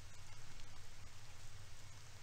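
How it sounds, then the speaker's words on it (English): Harsh rain falls outside in a paranormal horror video game, a faint, steady patter and hiss with no voices. "Outside, the rain was harsh,"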